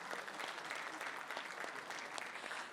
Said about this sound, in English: A round of applause for your teachers.